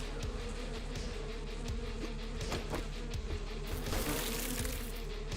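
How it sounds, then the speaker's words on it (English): Bees buzzing in the survival video game 7 Days to Die, a steady low insect drone with faint flickers of movement, continuous and alone at low level. "Man, the bees are so ridiculous."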